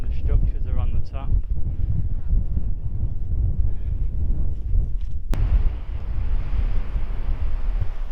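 Strong wind buffets the microphone on an exposed Cornish clifftop near an old mine, a steady loud roar throughout that turns harsher and brighter partway through, with people talking over it early on.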